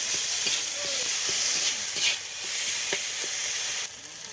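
Tomatoes with salt sauté in a pan, giving a steady, soft sizzle with faint stirring clicks throughout, and no voice over it.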